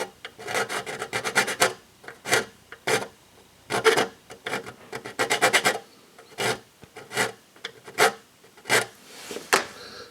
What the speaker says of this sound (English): Then I can use a file.